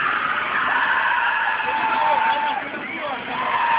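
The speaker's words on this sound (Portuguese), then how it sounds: "O Marcelo na pista aí com o Chevette." Chevette drifting on the track at a drift show in Franca, sustained loud tire squeal with shifting pitch over engine noise, an announcer talking over it.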